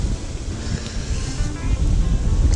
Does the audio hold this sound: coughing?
no